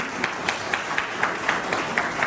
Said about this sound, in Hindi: हम चाहेंगे कि जोरदार ताली के लिए लगाया जाए